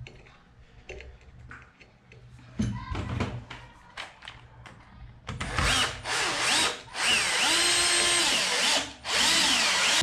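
A power drill drives a screw while a porcelain tile sink is being installed. Its whine starts about halfway through in loud, sustained bursts with brief pauses, after softer handling knocks and clatter at the start.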